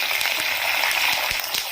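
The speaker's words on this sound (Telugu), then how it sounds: "ఈ పోపు అనేది మంచిగా వేయించుకోవాలి" Dried red chillies and curry leaves sizzle in hot oil as a tempering for tomato pickle, giving a steady bright crackling hiss with scattered pops, close and continuous.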